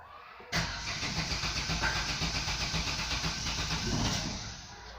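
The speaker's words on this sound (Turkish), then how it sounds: "Bismillah deyirip marşa basıyoruz." A car engine with Coca-Cola poured in place of antifreeze as coolant cranks, catches after half a second and then runs loud and close with a rough, steady idle before easing slightly at the end.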